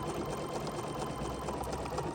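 An embroidery machine quilting fabric runs at a fast, steady mechanical stitching whir with a constant rhythmic chatter, close and even throughout, with no voices.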